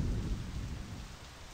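Heavy rain pours steadily in the video game My Summer Car, with a deep rumble of thunder rolling underneath, loud at the start and easing slightly over a second and a half, with no talking.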